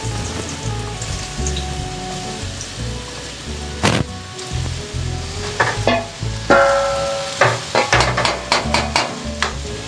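Carrot pieces drop into hot oil, setting off loud crackling and popping sizzles in irregular bursts, close up, with no talking.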